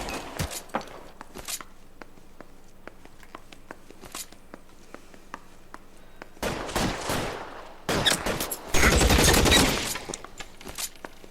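Gunfire during a bank shootout in the video game L.A. Noire: sharp single shots spaced irregularly at first, then dense bursts of rapid automatic fire building to a loud sustained fusillade near the end.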